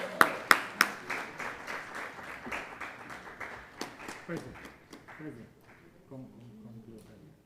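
Audience applause at a Jamaica Teachers' Association annual conference awards ceremony, a dense patter of many hands with a few sharp nearby claps, gradually thinning and fading as voices begin talking over the tail.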